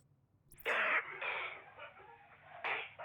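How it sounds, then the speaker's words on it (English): A character in the video game The Division 2 coughs, a few harsh wheezy bursts close up, separated by short gaps with a quiet background. "Not with you coughing like that."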